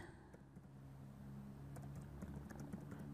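Soft, quick clicks of typing on a computer keyboard, quiet and close, with keystrokes growing denser toward the end.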